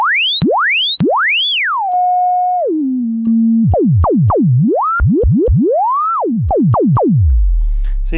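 A Multimoog analog synthesizer tone with an inverted envelope, sweeping in pitch with several rising and falling glides that swell up and cut off abruptly, then a string of quicker chirps ending in a low buzz.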